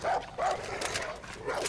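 Dog barks and yips in the shooter game Far Cry New Dawn, three short bursts spaced across the moment, fairly close, with game ambience between them.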